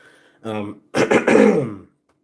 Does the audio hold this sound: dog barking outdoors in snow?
no